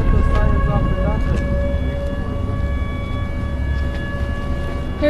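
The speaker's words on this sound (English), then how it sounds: "Teagan, they don't just set those sirens off for nothing." Warning sirens sounding continuously, a steady, loud, sustained tone with layered pitches under a rumbling low background and faint occasional knocks, no clear talk.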